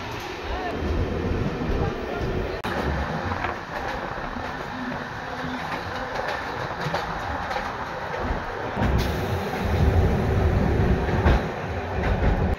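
A passenger train runs along rails with a continuous rumbling roar and rhythmic clatter of wheels, loud and close from on board, rising slightly toward the end.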